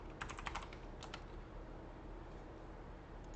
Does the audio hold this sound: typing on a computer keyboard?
yes